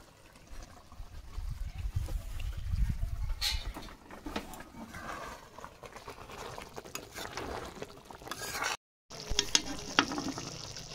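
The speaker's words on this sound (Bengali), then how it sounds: "সর্ষের তেল দিয়ে দিচ্ছি।" Mustard oil poured over a nearly finished chingri maharani prawn curry sizzles and crackles in the pan, with stirring and liquid bubbling, a brief dropout near the end, and no talk.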